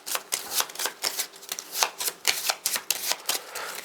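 Playing cards for the Skyrim adventure board game are riffle-shuffled up close, a rapid run of crisp, papery bursts repeating in quick succession with no voices.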